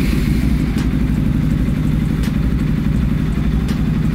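A Bajaj Pulsar NS200 motorcycle, just fitted with a new carburettor slide, runs loud and close at a steady idle with an even low rumble and faint mechanical clatter, no voices.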